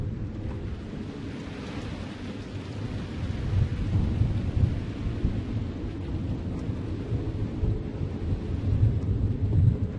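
Continuous thunderstorm ambience from The Black Mirror video game: steady heavy rain with deep, rolling low thunder rumbles that swell around the middle and end, filling the whole clip with no talking.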